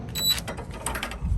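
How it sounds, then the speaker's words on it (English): A socket wrench clicks and ratchets briefly on a bolt of a steering brace being installed on a 2019 Ram Power Wagon, close up, a quick series of mechanical clicks. "Got this wrench here, socket there."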